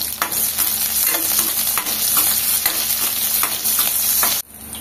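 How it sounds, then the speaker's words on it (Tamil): A large onion frying in hot oil gives a bright, continuous sizzle, close and loud, broken by regular spatula scrapes and stirs before cutting off abruptly near the end. "ஆயில் சூடானோன்னு இந்த வெங்காயத்தை போட்டு அதில் நல்லா வறுத்து வச்சுக்கணும்"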